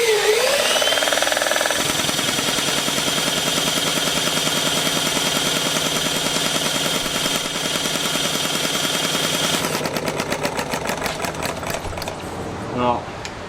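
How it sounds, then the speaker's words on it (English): A diesel engine with incorrect valve timing runs steadily and loudly, blowing back through its intake valve with a dense rapid chuffing rattle; the pulse quickens near the end. "definitely getting blowout from the intake valve"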